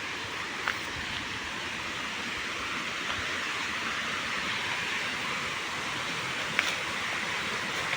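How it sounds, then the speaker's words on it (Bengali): Water pouring out steadily at Khadarani lake in Belpahari, a continuous broadband rushing roar like a small waterfall, even and unbroken for the whole stretch, with no talk over it. "জল বার হচ্ছে কত।"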